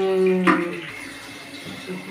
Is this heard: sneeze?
no